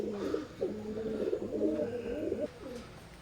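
A pair of Oman Teddy pigeons coo in soft, repeated throaty phrases, close and fairly quiet, with no talking over them.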